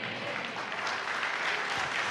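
A church congregation applauds during a sermon, a steady, moderately quiet wash of many clapping hands with faint voices underneath.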